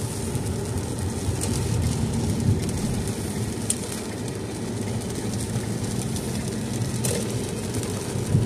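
Heavy rain pours down near a ballpark in a dense, steady hiss mixed with a low rumble of traffic, continuous and fairly loud with no talking.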